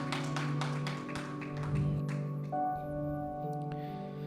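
Worshippers in a church clap in rhythm over sustained keyboard tones. The claps are moderately loud and evenly spaced for the first couple of seconds, then thin out while the held musical notes carry on.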